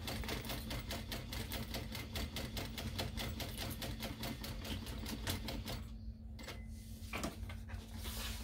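Sewing machine top stitching along a backpack zipper, a rapid steady needle clatter in close, regular bursts that pauses briefly near the end before restarting.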